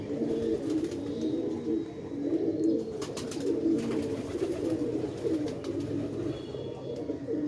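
Continuous low, throaty cooing of a female Ferozpuri pigeon, steady and fairly close, with a few faint chirps and rustles in the background.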